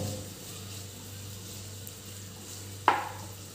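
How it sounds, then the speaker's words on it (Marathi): Onion sautés in a pan for street-style masala Maggi, giving a faint, steady sizzle under a low hum, broken by a single sharp clink of a utensil near the end. "कांदा परतून घेते"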